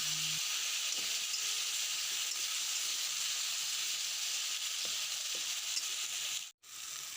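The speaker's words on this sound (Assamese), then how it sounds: "বিলাহীখিনি ভালদৰে লৰাই লৈছোঁ। লৰাই লৈ ঢাকন দি সিজিবলৈ এৰি দিম।" Tomatoes cooking under a lid in a pan while paneer is being prepared, giving a steady close sizzling and steaming hiss with a few faint stirring knocks, and no talking.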